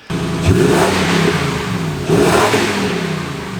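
An older Toyota 4Runner or Tacoma engine revs hard twice through an aftermarket Gibson catback exhaust, the deep rumble surging, settling, then surging again up close with no talking.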